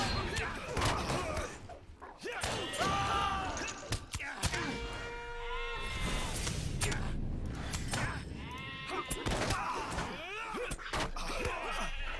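Sheep in the video game LOTRO bleat repeatedly, several overlapping calls rising and falling over a steady background, with a voice talking intermittently among them.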